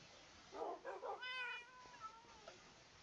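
A Minecraft cat meows in a video game, a couple of short close meows followed by a longer drawn-out one, fairly quiet and clean against a low background.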